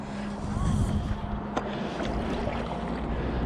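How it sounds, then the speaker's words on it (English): Small waves wash and lap against an Aqua Marina Magma inflatable paddleboard on a lake at Upton Warren, a continuous watery rush mixed with wind noise, fairly close. "Here come the waves."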